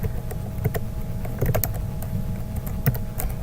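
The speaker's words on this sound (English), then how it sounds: "So just typing in some example things" Typing on a computer keyboard while entering student names into an Excel sign-in sheet, steady close key clicks with a few louder taps over a low room hum.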